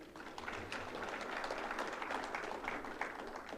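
Audience at a Kenya National Examinations Council event clapping for the council staff, a dense, fairly quiet and even spread of applause sustained for a few seconds.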